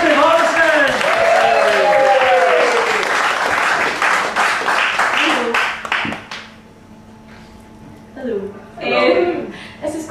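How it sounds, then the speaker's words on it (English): A pub crowd claps and cheers loudly for a stand-up comedian's introduction, the dense applause filling the room before tapering off, then a few scattered claps and a voice come through. "So ladies and gentlemen, start clapping again"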